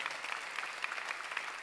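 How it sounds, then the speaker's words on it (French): Audience applause at a tech conference on server gaming and R&D co-innovation: a soft, steady wash of many hands clapping, distant and faint, with no talk over it. "on les applaudit bien fort."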